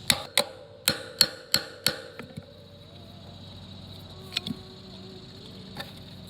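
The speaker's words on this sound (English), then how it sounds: "take this pointy in, get it right in there, and then I'm gonna hit it with this hammer" A hammer strikes a metal pick six times in a quick, sharp series of bright taps, followed by quieter scraping and a few faint knocks.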